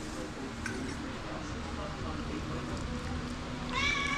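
A cat meows briefly near the end, heard over a busy background of voices and household noise.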